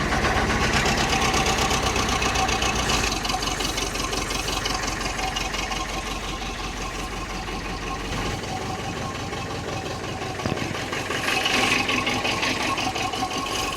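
A Volvo BM 2250 tractor's engine idles steadily in the cold with its motor heater left off, a dense, continuous mechanical rumble at close range, easing slightly midway and rising again near the end, with no speech.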